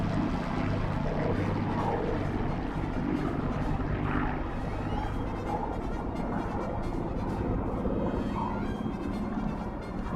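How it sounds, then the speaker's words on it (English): A Hawker Hurricane fighter flies a Remembrance Day display, its piston engine droning steadily and fairly faint at a distance with a broad roaring wash throughout. "Pulling the Hurricane around for a half Cuban. Coming down the flight line once again."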